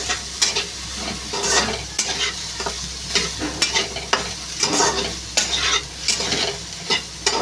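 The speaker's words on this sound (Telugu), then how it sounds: "మిల్ మేకర్ అంతా ఫ్రై అయ్యేటట్టయితే ఫ్రై చేసుకోవాలండి" Meal maker soy chunks frying in oil in a pan, with a bright continuous sizzle broken by repeated scraping strokes of a spatula stirring them, close and clear with no talking.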